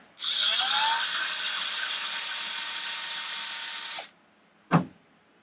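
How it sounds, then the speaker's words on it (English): A power driver runs steadily for about four seconds as screws are driven back into the differential of an XMAXX 8S RC car, its whine close and loud, followed by a short sharp click. "we're gonna line the holes, and we're gonna put the screws back in"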